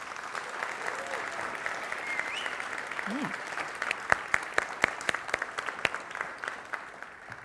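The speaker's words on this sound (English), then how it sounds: "how about a round of applause for the folks behind the curtain?" A conference audience applauds, the clapping building into a scattered burst of sharp claps near the end, with a brief voice heard over the room noise.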